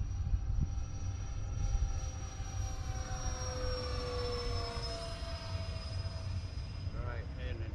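An E-Flite A-10 radio-controlled model jet on its maiden flight whines loudly as it takes off, the steady high-pitched turbine tone sliding slightly over a rumbling outdoor background.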